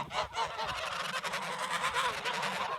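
Geese honk repeatedly in a loud, overlapping chorus, harsh nasal calls crowding close together without pause.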